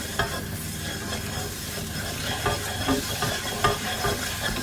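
Lasagna meat sauce cooks down in a pan with a steady bubbling sizzle and occasional soft stirring scrapes, fairly close, with no voices.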